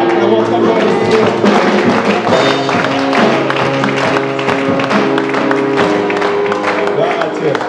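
A church congregation acclaims the Lord with loud, sustained clapping that runs unbroken alongside ongoing worship music, close and dense throughout.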